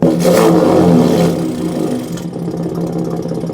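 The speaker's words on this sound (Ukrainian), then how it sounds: "прийшов час протестувати звуки вихлопу і почнемо ми з тихого" A low, steady exhaust rumble from a 2023 Ford F-150 Raptor pickup in quiet exhaust mode idles close by, loud at first then settling into a softer, even drone.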